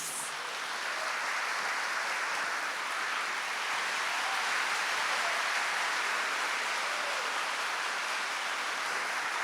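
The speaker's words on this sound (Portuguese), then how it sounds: "Aplauda a palavra de Deus." A church congregation applauds together in a soft, steady wash of clapping that stays even and fairly distant throughout, with no voice rising above it.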